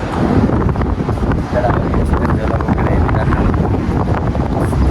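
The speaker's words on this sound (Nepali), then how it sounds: "फेरि हावा पनि चलिरहेको तर तातो हावा आइरहेको" Hot wind gusting outdoors on a sweltering day, buffeting the microphone with a loud, continuous low rumble that barely lets up.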